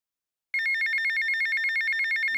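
A telephone rings in a Grand Theft Auto game, a loud electronic trilling ring that starts abruptly after a short silence and warbles rapidly and evenly for about two seconds.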